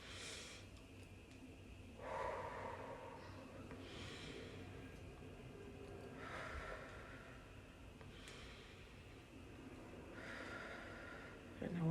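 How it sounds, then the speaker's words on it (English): Slow, deep breaths drawn in and let out one after another with steady pauses, soft and close in a quiet room, no talking. "3 deep breaths."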